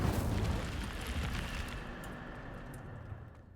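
The Incendio fire spell in the game Hogwarts Legacy lets out a soft, rushing burst of flame that roars broadly at first, then gradually thins and fades over a few seconds, heard fairly quietly.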